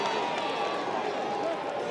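Stadium crowd cheering at a Duke vs North Carolina 2024 men's lacrosse game, a continuous dense roar that holds steady throughout, with a commentator's voice over it.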